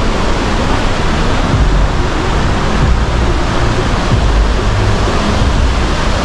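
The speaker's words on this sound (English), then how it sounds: "I'm getting closer to the waterfall." A waterfall in Ubud, Bali roars as a loud, dense, continuous rush of falling water, close by and steady throughout, with no voices.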